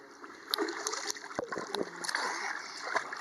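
Water splashing in an outdoor swimming pool during a summer holiday, with several irregular splashes and sloshing bursts close by, mixed with faint background voices.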